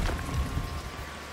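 Steady rain falls in the farming simulation game Farm Manager 2021, heard as a dense, even hiss of drops that holds at a constant level throughout.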